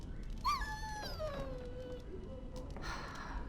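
A dog in the video game Dragon Age: Origins whimpers with high, wavering whines that slide downward over a few seconds, set against a steady low game ambience.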